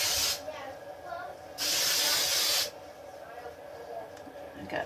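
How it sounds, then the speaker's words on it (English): Suave hairspray hisses from an aerosol can onto short pixie-cut hair in two loud bursts, a short one at the start and a longer one about a second later, with quieter rustling between. "And then I use Suave hairspray."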